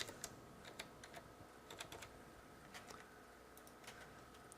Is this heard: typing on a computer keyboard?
yes